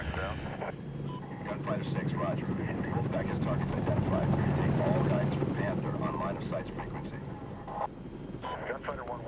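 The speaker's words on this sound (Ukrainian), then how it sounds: "ми тепер на гелікоптері летимо на незвичайному та а бойовому гелікоптері" An AH-64 Apache attack helicopter in the video game Medal of Honor (2010): steady rotor drone and engine roar fill the scene, continuous and loud, with a voice talking over it.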